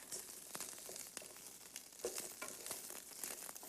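Onions and garlic softening in a pan while a bobotie is cooked, giving a faint, steady sizzle broken by soft crackles and small clinks, with no talk.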